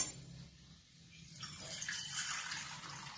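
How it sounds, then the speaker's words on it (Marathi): Water is poured little by little into a khandvi batter of gram flour with turmeric and salt, making a soft trickling and splashing sound in a bowl that grows steadier toward the end. It is quiet and heard alone. "याच्यामध्ये आता पाणी घालायचं थोडं थोडं"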